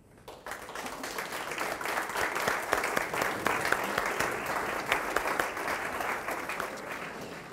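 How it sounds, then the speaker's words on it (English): Sustained applause from an audience at an energy award ceremony, a dense, even wash of many hands clapping that starts abruptly and continues loud and steady for several seconds with no voices on top. "Thank you very much for the applause and thank you very much for the award."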